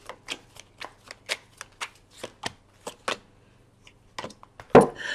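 Tarot cards shuffled by hand in a quiet room, a steady series of crisp riffling bursts about every half second, ending in a louder shuffle and a few soft taps.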